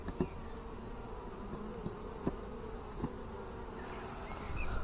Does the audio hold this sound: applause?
no